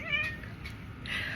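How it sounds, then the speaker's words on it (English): A cat meows twice up close, a rising drawn-out call followed by a shorter second meow, clear against a quiet background. "That was my cat, by the way."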